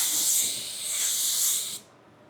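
Car paint spray gun laying a coat onto a body panel in a home garage: a steady, loud airy hiss held for nearly two seconds, then cut off abruptly.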